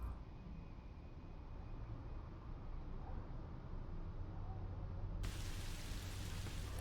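Steady rain ambience from the horror video game Song of Horror, a continuous hiss of falling rain that swells and brightens sharply near the end, with no voices.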